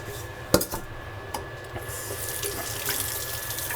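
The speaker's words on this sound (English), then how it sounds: "We are going to clean the baby bok choy." Tap water runs into a sink to rinse baby bok choy, a steady close stream with a few sharp clatters of a bowl or dish near the start.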